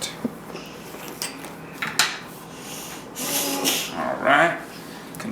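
Chicken salad being stirred and mixed in a bowl, with soft scraping and rubbing strokes of a utensil, a few clinks, and a louder stretch of mixing near the end, close by.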